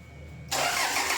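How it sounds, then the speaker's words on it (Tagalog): A Toyota Innova engine, previously overheated and with its radiator just refilled with water, cranks and catches abruptly, then settles into a loud, steady running roar close by. "After kong masalina ng tubig itong radiator ni customer, pina-start ko na itong makina."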